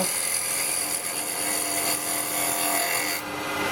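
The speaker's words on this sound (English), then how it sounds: "Now I'm going to come in for a little push cut." A carbide tool making a push cut on a small wooden bowl spinning on a lathe, a steady close-up scraping hiss with a faint motor hum underneath, continuous and fairly loud before easing slightly at the end.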